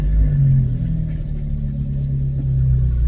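A car engine fitted with a Bonalume switchable dump valve revs loudly and steadily up close, a continuous deep rumbling drone with no pauses or talking.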